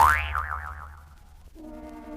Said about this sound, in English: Well, I've taken another bounce on my arrow hop.